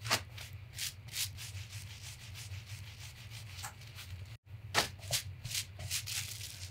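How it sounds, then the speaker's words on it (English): Wet felt is rolled and rubbed by hand, with repeated close, soft scrubbing and swishing strokes in an irregular rhythm and a brief pause partway through. "We're going to roll and rub, but we're not going to do any throwing or tossing"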